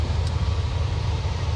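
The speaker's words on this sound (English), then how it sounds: "the car is just sitting here idling" A GMC Yukon Denali with a 6.0 LS engine sits idling, giving a close, steady low rumble with a slight rhythmic pulse and no talking.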